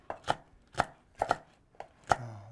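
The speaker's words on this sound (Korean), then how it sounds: "고추마저 썰어주세요." A knife slicing chili peppers on a cutting board, five crisp separate chops spaced roughly half a second apart, close and clear with quiet between strikes.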